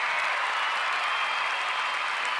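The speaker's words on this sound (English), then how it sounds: "I am going to give that the best applause" Steady applause continues unbroken at an even level, a dense wash of clapping with no voices over it.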